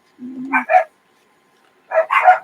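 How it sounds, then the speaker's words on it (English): Two short bursts of dog barking, a low growl-like bark followed by sharper yaps, then a pause and another double bark, fairly close. "My dogs are barking."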